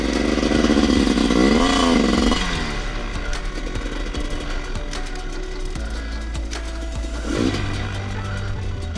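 Dirt bike engine while a brand new rider works out which gear he is in; a loud, close, droning motor rises in a rev, drops back as the gear changes, and settles into a steady rattly run with another brief surge near the end.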